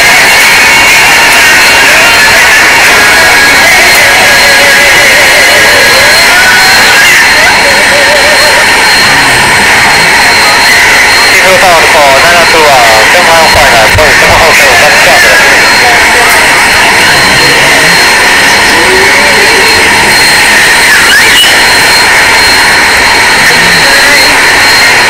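Airbus A380 jet engines in a video game spool up with a steady, loud roar and high whine that runs unbroken for the whole stretch, with faint talk over it.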